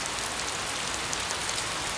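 Steady rain falls on city streets, a dense, even hiss of drops spread across the whole clip with no pauses or voices.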